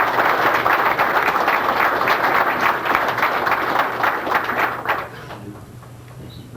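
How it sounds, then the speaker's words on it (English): A retirement ceremony audience claps in a dense, sustained round of applause, loud and fairly close, then thinning and tapering off toward the end. "I'd like to offer a round of applause to our sailor."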